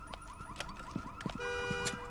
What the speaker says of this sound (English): The car alarm's going off.